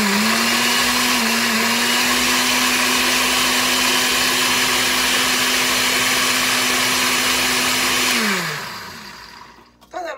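A blender roars steadily while crushing roasted dried red chiles into a coarse, not finely ground, mix, its motor holding a strong even whine for about eight seconds before spinning down and stopping.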